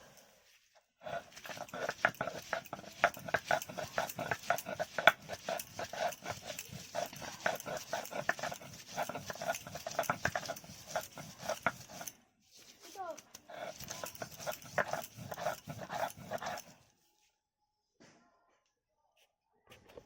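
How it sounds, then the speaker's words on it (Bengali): Gandal leaves ground by hand on a traditional flat grinding stone, a rapid rhythmic scraping and rubbing that runs steadily, pauses briefly, then resumes before stopping into near silence. "আমি গাঁদাল পাতাগুলো শিলে বেটে নিচ্ছি"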